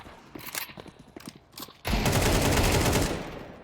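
Gunfire in a Counter-Strike match: a few sharp, spaced shots and clicks at first, then a sudden loud, continuous burst of rapid automatic fire that holds for over a second before easing off, with no voices.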